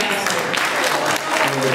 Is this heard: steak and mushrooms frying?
no